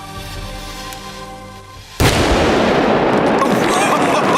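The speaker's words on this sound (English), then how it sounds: "The acetylene explodes, ripping the tin apart with an ear-shredding bang." A sudden, very loud bang from acetylene gas exploding and ripping a tin apart, cutting in after a steady tonal background and leaving a dense, roaring wash of noise that does not fade.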